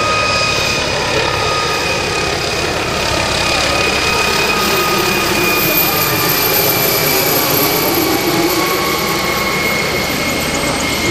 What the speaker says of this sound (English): The aircraft is currently heading off to your left.